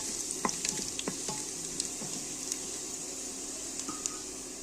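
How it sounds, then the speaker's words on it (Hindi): Green and black cardamom pods and a cinnamon stick sautéing in hot oil in a pan, a steady bright sizzle with a few small pops and crackles, close and unbroken, no talking. "इनको भी थोड़ा सा सौते कर लेंगे"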